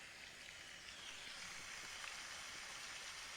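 Steady, soft rain ambience plays as the background setting of a meditation app, an even wash of hiss and patter throughout with no other sounds.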